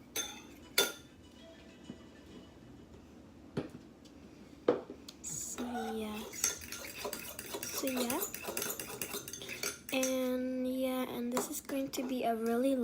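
A big batch of slime mixture being stirred in a bowl, with utensil scraping and clinking against the dish, faint at first, then joined by steady talking in the second half.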